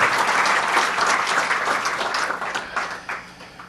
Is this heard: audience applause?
yes